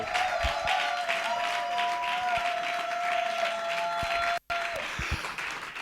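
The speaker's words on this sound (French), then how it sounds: "ce sera sous vos applaudissements encore, la sœur Faveur Moukoko." An audience at an acoustic music show applauds steadily through the whole stretch, broken by one brief dropout, while sustained tones ring underneath.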